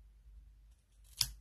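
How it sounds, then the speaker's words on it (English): Scissors snip through a paper cork shape during a card-stamping craft, giving one sharp, close cut near the end of an otherwise quiet moment. "I'm going to take my scissors and cut out"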